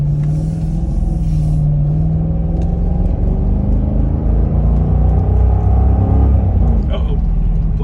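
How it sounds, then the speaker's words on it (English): A car drives past on a city street near a fire station, a steady road rumble and engine whir rising and fading over about eight seconds, loud and close, heard from inside another vehicle. "Once this car passes, I'm about to open up."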